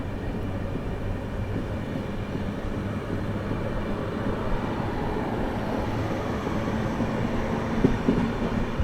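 An Indian Railways express, the Jharkhand Sampark Kranti, running through Bhabua Road station without stopping: a steady, loud rumble of wheels and carriages sustained throughout, with a brief louder clack near the end and no talk.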